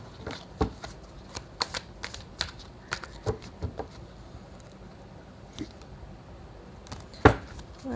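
Tarot cards are handled nearby with light flicks and soft papery taps as they are shuffled and one is drawn. The taps come in scattered bursts with a sharper snap near the end, over faint room noise.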